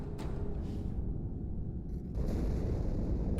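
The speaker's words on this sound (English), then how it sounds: "Die Explosion kam aus dem Innern der Athen, genau wie bei der Malta." A heavy explosion rumbles through a Halo 2 cutscene aboard a spaceship, with a dense, loud low roar that swells again partway through.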